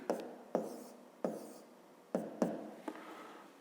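A pen writing numbers on paper, six distinct close scratchy strokes, each a sharp tap followed by a brief fading scrape, spaced irregularly with quiet gaps between, no talking.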